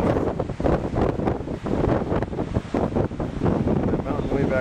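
Strong coastal wind buffets the microphone on the Trans-Catalina Trail, a loud, gusting roar that rises and falls in uneven bursts with possible surf beneath, close and continuous.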